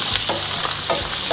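Onions frying in hot oil, a loud steady sizzle with a few stirring scrapes, heard close up with no talking.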